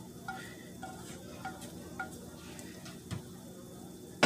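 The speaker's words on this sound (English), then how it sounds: "So now I'm going to add in the fried eggs that we just made." Fried eggs going into a pan of rice for shrimp fried rice, with soft stirring scrapes and a quiet sizzle, a few light utensil taps on the pan, and a sharper clank at the end.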